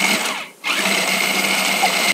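An electric mixer on low speed beats eggs, a steady close whirring hum with a brief dip in the motor sound early on before it runs evenly again.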